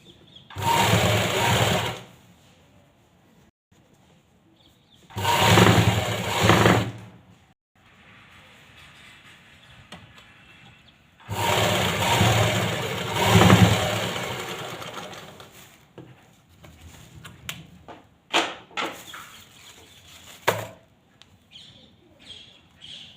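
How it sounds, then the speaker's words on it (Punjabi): A sewing machine stitches piping onto a salwar hem in three loud, close bursts of rapid whirring. Quieter handling noises and a few light clicks follow. "ਇਸ ਤਰ੍ਹਾਂ ਆਪਾਂ ਸਲਾਈ ਲਗਾ ਲਾਂਗੇ"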